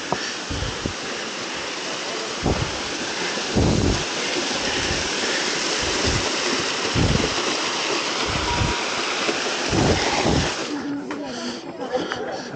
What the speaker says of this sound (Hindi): ये देखो एक झरना